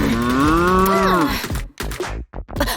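A cow lets out a loud, close moo that bends in pitch and then breaks off, followed by brief clattering and rustling sounds nearby.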